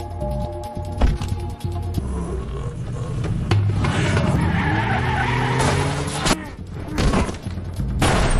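A car in a film chase scene tears away with tires squealing and skidding, the engine roaring loudly, mixed with bursts of gunfire and sharp impacts.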